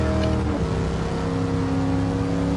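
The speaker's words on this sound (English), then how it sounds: "Just listen to that V8" A deep Pontiac Firebird Trans Am V8 engine in Gran Turismo 7 drones steadily on the Nordschleife, holding a loud, rumbling revving note with a slight rise early on, no voices over it.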